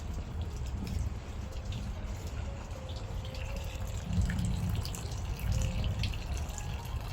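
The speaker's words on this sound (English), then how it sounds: "Like a small stream." A small stream of water flowing outdoors on a gloomy winter day in Russia: a steady, close rushing trickle with low rumble and faint drips, continuous throughout with no talking.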